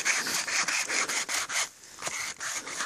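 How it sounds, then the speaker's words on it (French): A flexible commando saw cuts through dead wood outdoors on a bushcraft outing. It makes a close, steady rasp with quick, regular back-and-forth strokes and one brief pause partway through. "Avec cette scie, comment on appelle ça du coup, une scie commando."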